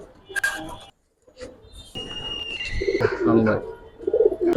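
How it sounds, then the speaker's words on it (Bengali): Giribaz and coloring pigeons coo close by in a loft in soft, repeated throaty calls, mixed with brief chirps and some background talking. "খুব সুন্দর কবুতর"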